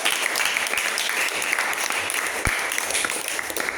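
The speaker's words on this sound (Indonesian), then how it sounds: "tepuk tangan untuk teman-teman Mbak" Classmates applaud together in a classroom after a group finishes its discovery-learning discussion presentation, a steady dense clatter of hands lasting a few seconds without any voices.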